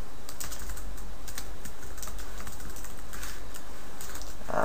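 Steady, fast clacking of a computer keyboard as code is entered in Visual Basic, close and continuous with no talk over it.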